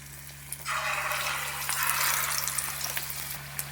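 Rice flour batter hisses into hot oil with a broad, steady sizzle that swells after a quiet start and holds fairly loud to the end, over a low steady hum.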